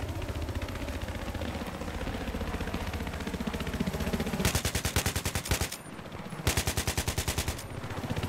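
Steady background game noise in Battlefield 3 multiplayer gives way to two loud bursts of rapid automatic gunfire, each lasting about a second, separated by a brief pause.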